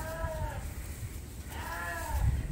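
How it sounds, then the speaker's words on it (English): Two-month-old lambs bleating in a farm pen, two drawn-out wavering bleats a second or so apart, near and clear over low barn rustling. "So the lambs in this pen would be about 2 months old."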